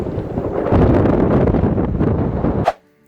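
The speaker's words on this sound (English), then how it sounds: "It's really windy." Strong wind roars and buffets the microphone on a rocky beach at Cape Enrage, New Brunswick, a loud continuous rumble that cuts off abruptly near the end.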